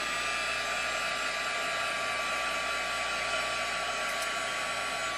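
A heat tool blows a steady, even airy whoosh at close range to warm an altered bottle cap, running unbroken throughout without speech.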